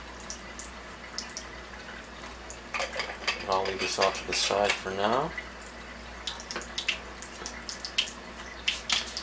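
Tap water runs steadily while a Kangen water machine is rinsed during cleaning with an E-Cleaner. A soft, constant hiss sits beneath clinking dishes and a person talking.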